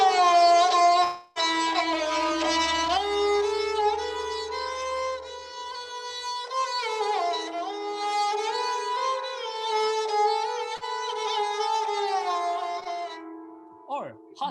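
A solo sarangi bows a slow, mournful raga in the karuna mood, its sustained, gliding notes rich in harmonics, played close and clear with brief pauses and a short gap near the start.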